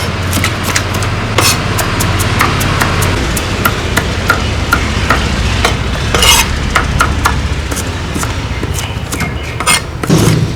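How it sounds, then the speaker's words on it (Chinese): Pickled cabbage stir-fried in oil with minced garlic, ginger and chili gives off a loud, rapid clatter of spatula strikes against the pan over a continuous sizzle. "开炒，加油，稍微多一点啊，炒酸菜，蒜、姜、辣椒"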